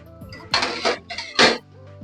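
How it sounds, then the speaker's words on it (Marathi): A metal lid is set onto a cooking pot holding a sprouted moth bean and tomato curry, giving two close clattering clinks over a quiet kitchen background. "1-2 मिनिटासाठी झाकण ठेवते."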